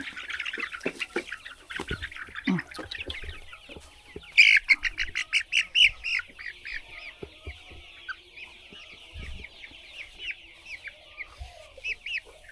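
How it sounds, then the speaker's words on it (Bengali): Frightened layer pullet chickens on a farm cluck and squawk in rapid, agitated bursts, with a loud flurry of calls midway, some wing flapping and scuffling, and no voices. "আপনারা দেখেন মুরগিগুলো কিন্তু প্রচুর ভয় পাইছে"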